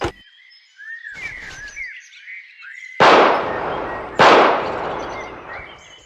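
Two sharp, loud pistol shots from a Colt 1911 handgun in the tactical shooter Hidden and Dangerous, spaced about a second apart, each with a bright decaying tail, after quieter game ambience with chirpy electronic tones.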